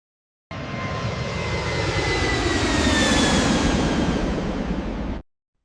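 Massive Boeing jet aircraft engines roar, loud and steady, swelling toward the middle and then cutting off abruptly, with no voices.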